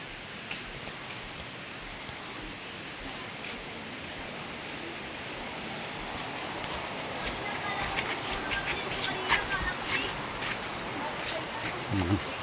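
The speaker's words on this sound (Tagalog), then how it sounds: "rinig na rinig mo na halos yung lagaslas ng tubig galing doon sa falls" Rushing water from Taytay Falls forms a steady, broadband hiss like heavy spray, heard from some distance, with faint voices and small movement noises scattered over it.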